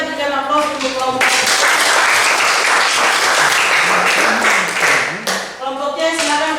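Loud, dense applause and clapping from a classroom of students for a group that has just presented, lasting about four seconds, with a teacher speaking before and after.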